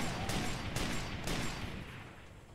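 Rapid bursts of close, loud gunfire in the video game Far Cry 2, with three sharp blasts punching through a dense, continuous roar of battle noise before it slowly fades.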